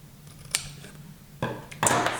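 Scissors snip the corners of paper while a scrapbook album is made. Three distinct cuts sound close and crisp, the last two heavier, with a soft rustle of paper between them.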